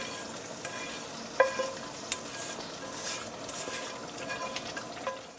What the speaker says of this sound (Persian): خب در اینجا دیگه آب ریختیم داخل خورشتمون